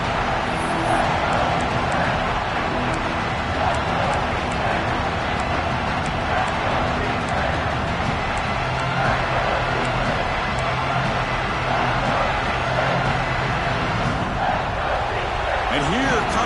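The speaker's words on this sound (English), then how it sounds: "This crowd is trying to inspire this defense to make a big red zone stop." A large football stadium crowd roars continuously during a defensive red-zone stand on third down, a dense, loud wash of cheering and noise that holds steady throughout, with an announcer talking over it.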